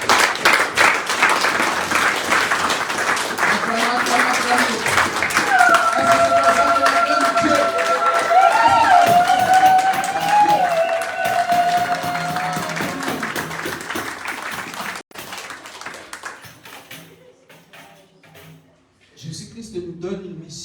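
A church congregation at a Sunday service claps and acclaims the Lord, loud sustained applause and cheering over music and voices that fades out near the end.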